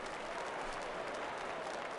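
A hometown stadium crowd applauds steadily on opening day in the MLB The Show baseball video game, a dense, even wash of clapping and cheering with no break for two seconds.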